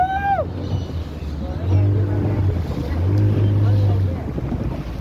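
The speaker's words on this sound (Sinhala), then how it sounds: "පොඩි බෝට්ටු දුවනවා" Small motorboats running on the sea off Balapitiya beach hum as low engine drones that swell and fade twice, under steady wind buffeting the microphone.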